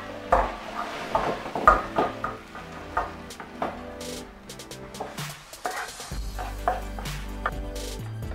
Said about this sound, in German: Und dann kommt das alles in den Topf rein.